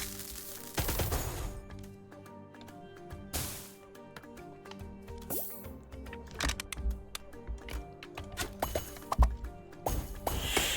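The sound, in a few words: rockets launched and exploding in the video game Flick Shot Rogues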